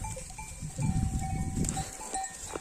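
A flock of sheep moves through oak woods on a hillside, with shuffling hooves, rustling and a scatter of faint bell clinks close by, and no voices present.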